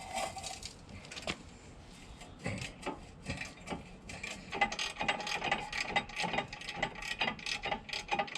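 A small wrench ratcheting on a car part, quick bursts of close metallic clicks in an uneven rhythm, faint overall with no talk.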